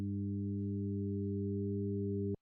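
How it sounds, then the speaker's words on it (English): Several sine waves added at harmonic frequencies up to 400 hertz form a steady, buzzy sustained tone that holds evenly for about two seconds and then cuts off abruptly. "It's becoming something other than a sine wave."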